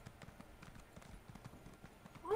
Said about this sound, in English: Why the hell am I on a horse?